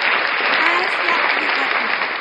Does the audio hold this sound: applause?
yes